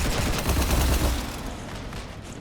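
Sustained gunfire fusillade in Mass Effect 3, with rapid shots raking a ship; dense and loud at first, then easing slightly but continuing throughout.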